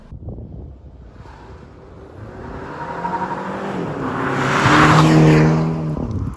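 A 2022 Mini Cooper S Hardtop 4-door pulls away and accelerates, its engine note rising through a gear with some wind buffeting. The sound is close and grows louder, then eases, with no speech.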